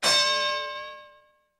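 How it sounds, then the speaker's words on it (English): A wrestling ring bell struck once, a bright metallic clang with a long ringing decay fading out over about a second and a half, loud and alone. "And there you heard the ring bell"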